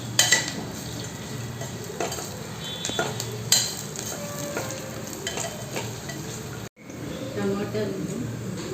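Onions and spices frying and stirred in a pan for tomato bath, a continuous close sizzle with occasional utensil clinks and a short break of near silence midway.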